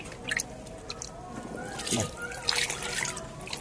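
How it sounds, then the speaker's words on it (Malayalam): Liquid fertilizer slurry is poured around the base of a crop plant on loosened soil: quiet splashing and trickling in short bursts, with a voice in the background. "ഈ സ്ലറി ഇതുപോലെ കുറച്ചെടുത്ത് ഇതിലേക്ക് ഒഴിച്ചു കൊടുക്കണം"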